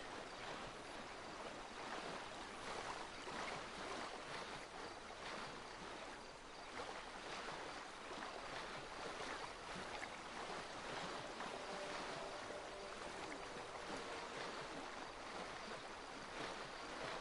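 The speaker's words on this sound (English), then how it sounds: "Do you guys hear that splashing?" Water splashes and sloshes continuously in a swampy area in the video game GTA5, a steady, fairly close wash of noise with no voices.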